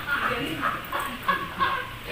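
Young muscovy ducklings on a small farm make repeated high, thin peeps in short bursts, close by, over a soft background murmur.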